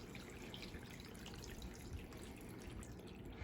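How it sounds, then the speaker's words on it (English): Water poured into a seed tray of bean seedling cells for bottom watering, a steady close trickle and splash with faint dripping running alone throughout. "we're just going to bottom water so that the cells absorb water"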